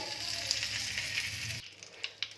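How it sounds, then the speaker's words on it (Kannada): Butter sizzling and frying in a hot pan while cooking a Kannada-style crispy chicken snack, a steady close hiss that cuts off abruptly, followed by a few soft clinks. "ಈಗ ಈ ಬಾಂಗ್ಲಿಗೆ ಸ್ವಲ್ಪ ಬೆಣ್ಣೆನ ಸೇರಿಸ್ಕೊಳ್ಳಿ"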